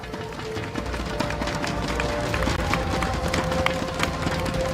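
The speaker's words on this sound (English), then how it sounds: "once more, a round of applause for RSGSG for their valiant performance here in the Land of Dawn" Sustained audience applause fills the hall at a Mobile Legends esports grand final in Singapore, a dense steady wash of clapping from a large crowd with some cheering, running loud throughout without a break.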